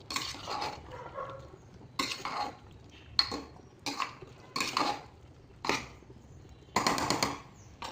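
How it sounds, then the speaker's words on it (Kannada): Soaked soybeans tipped into a pot while cooking tomato bath, with a few bursts of clattering metal utensil and pot sounds spaced across the clip, close and moderately loud, no talking. "ನೋಡಿ ಸೋಯಾಬೀನ್ ಹಾಕಿದ್ದೀನಿ"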